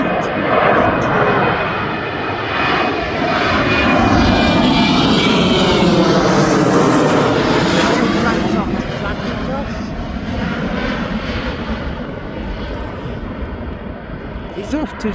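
A Jet2 passenger jet at Birmingham Airport gives a loud, continuous engine roar that swells and then slowly fades, with a person talking over it.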